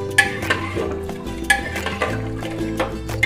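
Milk and fresh cream are stirred into grated carrot halwa in a pressure cooker. A spoon scrapes and knocks against the metal pot in loud, close, uneven strokes, with a wet, thick sloshing underneath and no talking.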